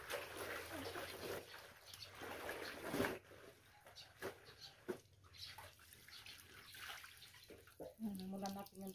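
Water running into a drum to wash curtains with soap, a quiet trickling and splashing stream with a few louder knocks and a sharp clatter partway through, and speech heard near the end.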